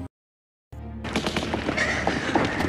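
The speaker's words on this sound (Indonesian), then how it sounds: "Namun Keke yang ketakutan justru menembak temannya sendiri hingga tewas." Gunfire in a war film about German soldiers at the Battle of Stalingrad: after a brief silence a sharp report cuts in, followed by a dense rattle of rapid shots and battle noise continuing loudly to the end.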